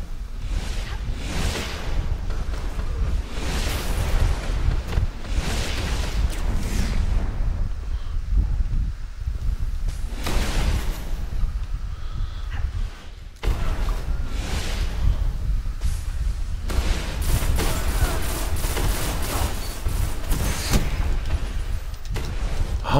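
Rapid, repeated shotgun blasts and explosive bursts fill a hectic Destiny Iron Banner multiplayer match, loud and dense for the full stretch with a brief dip midway.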